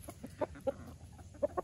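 A small backyard hen clucking close by, a few short, distinct clucks spaced irregularly over a quiet yard background.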